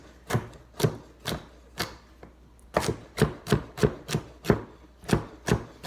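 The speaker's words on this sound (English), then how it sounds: "You're going to cut it down to the size you want, and then up and down like this." A chef's knife chops a celery stalk on a cutting board: about a dozen crisp, sharp knocks, evenly spaced in two runs with a short pause between them, close and clear with no talking.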